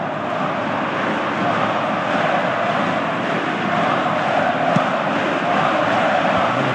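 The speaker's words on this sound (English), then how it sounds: "you can hear how the crowd are reacting to this too" Stadium crowd in a Pro Evolution Soccer football match, a steady dense roar of many voices filling the whole stretch, with no individual words.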